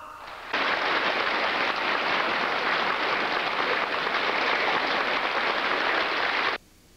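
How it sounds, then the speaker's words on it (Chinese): A large audience bursts into sustained, dense applause welcoming Jiang Zemin, a loud uniform roar of clapping lasting about six seconds before cutting off sharply. "让我们以热烈的掌声 欢迎江泽民同志为我们做重要讲话"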